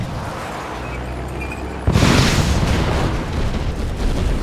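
V3 rocket explosions in the video game Red Alert 2: a sudden loud blast about two seconds in, followed by a dense, rumbling roar of further detonations that stays heavy over the low game background.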